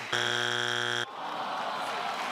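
A loud harsh game show strike buzzer blares once for about a second during a celebrity Family Feud round, cutting off into studio crowd murmur.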